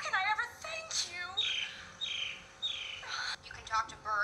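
Birds chirp and tweet in a musical scene, a series of short bright calls and trills repeating close by, fairly faint, with some other vocal sounds around them.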